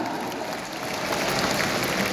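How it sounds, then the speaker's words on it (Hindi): Audience applause fills a hall at a company's 24th anniversary event, a dense, continuous wash of many hands clapping that holds steady and loud for the whole stretch with no talk over it. "अब हमारे बीच में आ रहे हैं श्री विजेंद्र सिंह राठौर, जोरदार तालियों के साथ"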